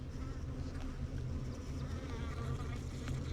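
Swarms of honeybees around wooden beehive boxes make a dense, continuous droning buzz, steady and fairly loud up close.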